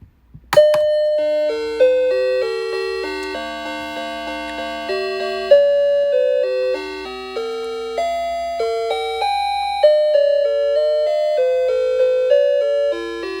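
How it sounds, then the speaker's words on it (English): A mantel clock chimes nine o'clock with a sequence of clear, ringing bell tones in a slow melody, each note ringing and decaying, with no talking. "let's go ahead and hear the chime for 9 o'clock"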